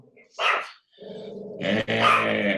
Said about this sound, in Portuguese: Desculpa, o cachorro hoje está